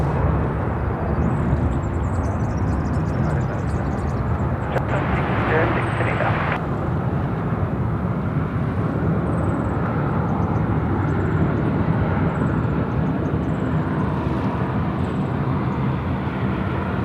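Royal aircraft departing Sydney Airport, a steady, distant jet rumble spanning the whole stretch, with small birds chirping intermittently nearby.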